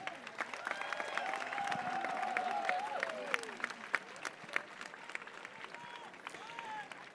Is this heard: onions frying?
no